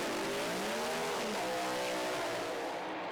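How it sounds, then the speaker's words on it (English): Drag racing cars doing tyre-heating burnouts at an FIA European Drag Racing Championship event, a loud continuous engine roar with rising and falling harmonic whine and tyre noise that fills the whole stretch, with no talking. "Burnouts then to get the tyres hot and sticky."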